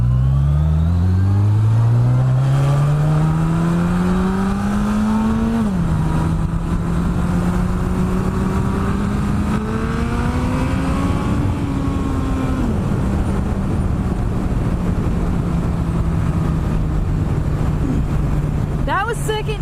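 A 1200cc motorcycle engine revs hard in second gear, its loud close roar climbing steadily in pitch, dipping briefly at a shift, then rising again before settling into a sustained drone with rushing wind.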